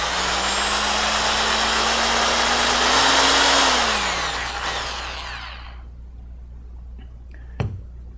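Power mixer blending PlastiDip rubber coating with pearl pigment for car painting: a loud, steady whirring drone with a tone that rises slightly, then winds down and stops, followed by a brief clunk near the end.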